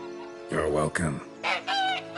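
In The Witcher 3 video game, a hen gives a few loud, close clucks and squawks in two short bursts separated by a brief pause.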